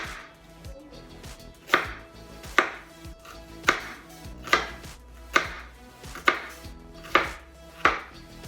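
A Pirge Ecco chef's knife finely chops onion on a board in steady, evenly spaced strokes, about one per second, sharp and close with no talking.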